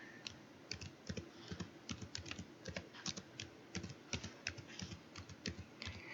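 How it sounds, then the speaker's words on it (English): Typing on a computer keyboard, a rapid, uneven run of crisp key clicks heard close and alone, with no talking. "When I'm done typing the name, I'm going to hit the Enter key on my keyboard."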